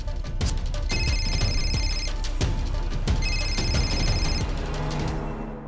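A telephone rings indoors in two loud bursts of bright, trilling electronic bell tones with a short gap between them. Background noise and faint room sounds run underneath.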